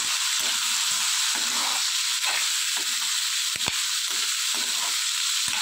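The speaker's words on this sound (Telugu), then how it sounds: "ఈ శనగలు 2 మినిట్స్ బాగా వేగనివ్వాలి." Boiled chickpeas frying in hot oil in a pan, a steady bright sizzle with repeated scraping stirs breaking through in a loose rhythm, close and fairly loud, with no voices.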